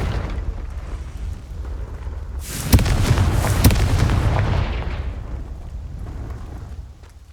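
A Confringo explosion spell in Hogwarts Legacy, a loud fiery blast with sharp cracks and a heavy rumbling roar that swells, then slowly dies away over several seconds.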